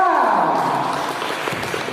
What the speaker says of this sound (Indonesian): beri tepuk tangan untuk calon nomor 5